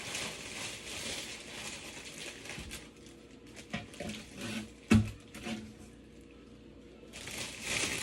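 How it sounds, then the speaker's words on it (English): Tap water running into a sink while potatoes are washed in a home kitchen, a soft steady rush near the start and end with a sharp knock and faint handling noises in between. "I'm gonna wash off some potatoes."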